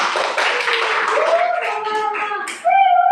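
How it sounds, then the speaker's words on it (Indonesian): Students in a junior high classroom at an Islamic boarding school give a brief burst of clapping that is soon mixed with voices and a sustained tonal sound, ending with a clear tone. "Tepuk tangan untuk kalian semua"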